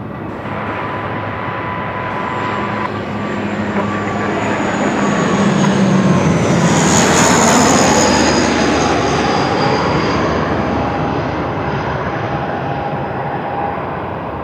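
A Dash 8 turboprop airliner arriving at Melbourne Airport from Mildura, a steady loud engine drone that swells as it passes close by, then slowly fades, with no talk over it.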